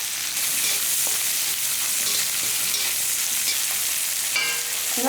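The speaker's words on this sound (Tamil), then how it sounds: "சின்ன வெங்காயம் எடுத்திருக்கேன் இதே எல்லாம் வதக்கிடலாம்" Small shallots sauté in a hot pan for a bitter gourd thokku, giving a steady, close sizzle with faint stirring scrapes and no voices.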